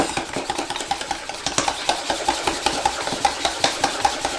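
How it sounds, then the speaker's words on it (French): Banana and egg are whisked together with a mini whisk, giving rapid, regular metallic clicks and scrapes against the bowl in a steady, close rhythm throughout. "Je vais venir bien mélanger la banane et l'œuf"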